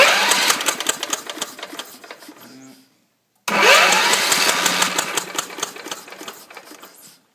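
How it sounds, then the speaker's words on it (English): A wood chipper's small engine cranks in a long rapid mechanical churn, stops briefly, then cranks again loudly and close without catching. "see it while I crank the engine"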